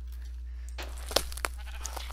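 A Minecraft sheep bleat in the Crazy Craft modpack, a short clear call after a quiet start, with a few brief clicks over low constant hum.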